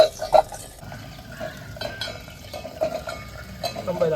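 Almonds roasting in a pan for Pongal sweets, stirred with a metal spoon that scrapes and clinks against the pan in irregular strokes, with a faint low sizzle beneath and no talking.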